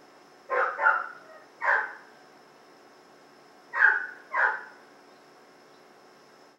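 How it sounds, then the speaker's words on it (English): A dog barks outside in five sharp, separate barks: a quick pair, a single, then another pair after a pause, all heard through a quiet room. "This dog is like screaming outside."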